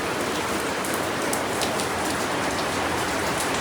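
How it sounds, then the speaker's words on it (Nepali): Heavy rain pours down in a steady, dense hiss, loud and close throughout, with no voices over it. "आज मेरो बर्थडेको दिन पानी दामी परिरहेछ"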